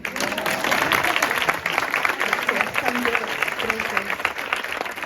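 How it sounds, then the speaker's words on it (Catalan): Audience at a book presentation in a library applauds the teachers present, a steady dense clapping that fills the room for several seconds without pause, loud and close. "Aplaudiu els profes que esteu aquí"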